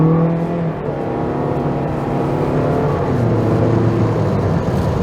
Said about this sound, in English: the engine noise is quite nice for a little vehicle